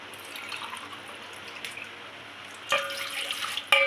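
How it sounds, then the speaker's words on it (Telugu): Water splashes into basmati rice in a pot for egg biryani, a soft trickle at first and then a louder pour near the end, with no talk. "నాలుగున్నర గ్లాసు వాటర్ తీసుకున్నాం కదండి. ఇప్పుడు రైస్లో పోసుకున్నాం మనం."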